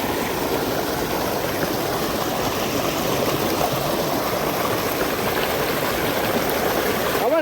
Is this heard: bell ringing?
no